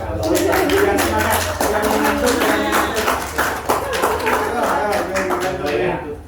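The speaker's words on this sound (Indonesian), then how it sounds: "Aplaus dulu." An audience at a team meeting claps together in a dense, close round of applause, with voices sounding over it.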